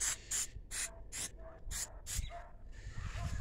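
Tire shine trim coat sprayed from a trigger bottle onto a hazy plastic headlight of a 2014 Nissan, a quick series of sharp spritzes up close, followed by a longer steady spray with faint background noise.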